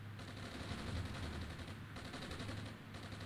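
Distant tank fire in the Armored Brigade war game, a muffled continuous rumble of rapid shots, faint and steady, with no voices.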